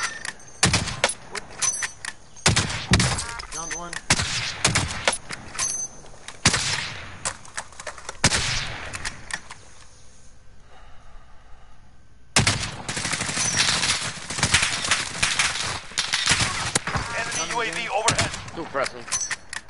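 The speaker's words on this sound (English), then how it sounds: "Oh, we're getting shot! We're getting shot!" Video game shootout with rapid bursts of gunfire, repeated sharp shots and automatic volleys across the whole stretch, a brief lull in the middle, and excited voices talking over the shooting.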